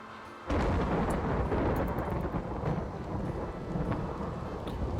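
A sudden crack of thunder from the video game RimWorld bursts in after a brief quiet, then rolls on as a loud, continuous rumble with scattered crackles.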